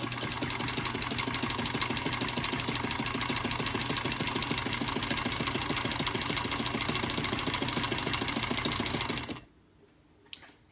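A sewing machine with a ZigZagger attachment fitted with cams runs at a steady fast stitching rhythm for about nine seconds, close and continuous, then stops abruptly, leaving a quiet click or two.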